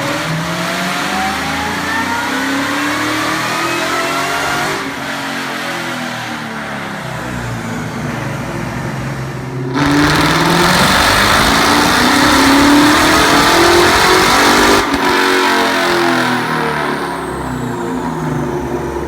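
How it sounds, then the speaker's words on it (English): A 2001 Mustang GT with a Kenne Bell supercharger and ported Eaton runs on a dyno, its engine revving loud and close in repeated rising pulls, with sharp cuts between runs. "some dyno footage of my car on the dyno so you can see how it sounds with the supercharger with ported Eaton"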